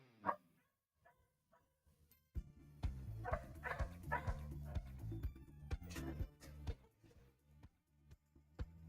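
Dogs barking close by, a few scattered yips and whimpers at first, then a sustained run of loud, repeated bow-wow barks for several seconds, tapering into occasional single barks.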